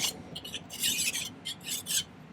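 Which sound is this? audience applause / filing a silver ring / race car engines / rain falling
filing a silver ring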